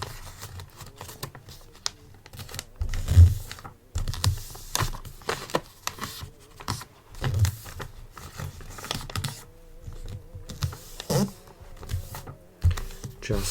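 Paper folded over while gift-wrapping at a bookshop: close, soft crinkles, taps and light rustling bursts at an uneven pace, with a quiet soft-spoken voice at moments.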